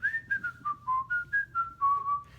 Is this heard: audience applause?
no